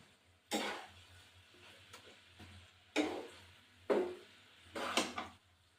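Vegetarian cabbage with cumin powder stirred in a pan: several separate scraping, clacking strokes of a spoon against the pan, close and fairly quiet, with short pauses between them.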